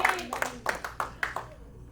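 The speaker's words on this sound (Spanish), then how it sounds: "Dale un aplauso al Rey de los Cielos" Church congregation clapping in a loose, uneven rhythm, about six or seven distinct bursts over two seconds, moderately close with a faint background hum.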